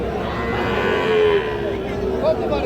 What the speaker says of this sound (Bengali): আমরা এই যে এখানে একটা গরু দেখতেছি